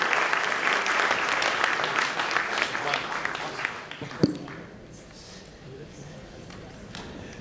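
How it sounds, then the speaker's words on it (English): Warm audience applause at a business and sports forum welcoming a guest to the stage, steady clapping that fades after about four seconds into quieter room noise with a few stray claps. "Ladies and gentlemen, Mr. Abhinav Bindra, with a warm round of applause, please."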